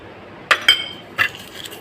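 Three short, bright clinks of bowls knocked together in a home kitchen while lining them with butter paper, crisp and close against near silence.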